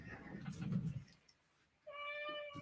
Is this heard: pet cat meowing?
yes